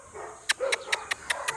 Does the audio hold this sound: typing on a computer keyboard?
no